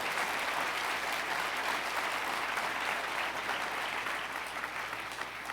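A church congregation applauds steadily for several seconds, a broad, continuous wash of many hands clapping at an even level throughout.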